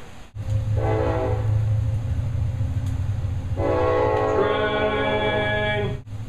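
A train rumbles past nearby, its horn sounding in two long blasts over the steady roar of the wagons.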